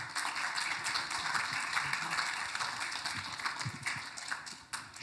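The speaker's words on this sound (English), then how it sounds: "can we please welcome, with applause, our fabulous panelists today" Dense, steady applause from a conference audience welcoming panelists at a testing conference in Melbourne, a continuous wash of many hands clapping that holds for about five seconds before thinning slightly at the end.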